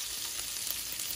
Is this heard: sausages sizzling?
yes